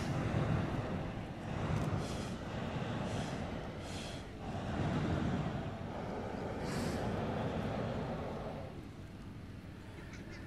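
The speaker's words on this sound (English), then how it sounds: "It's the sound of the hot air balloons going up." Low, steady roaring rumble of hot air balloon gas burners firing as balloons go up at an air festival, with wind buffeting the microphone and a few faint hissy bursts.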